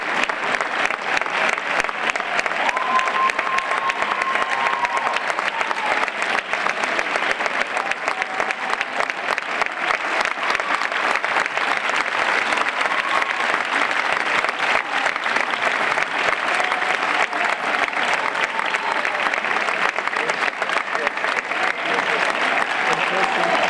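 Steady, dense applause from the audience at a choir competition, celebrating the winner of a choral contest; loud, continuous clapping without pause for the full stretch.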